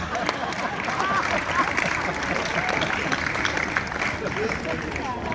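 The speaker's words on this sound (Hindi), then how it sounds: "हम तो तालियां बजा रहे हैं" Comedy show audience clapping steadily throughout, a dense continuous patter of applause from a crowd with a voice talking over it.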